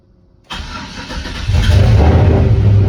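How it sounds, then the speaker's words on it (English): A truck engine fitted with an S475 turbo cold starts abruptly after silence, catching into a loud roaring idle that deepens and swells into a heavier rumble about a second later, close and alone. "I figured we'd do a cold start"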